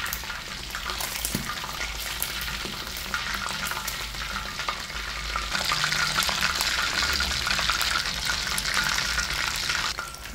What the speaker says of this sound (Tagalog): Kapag tumahimik na or medyo mahina na yung bukal-bukal niya, pwede nang hanguin yan.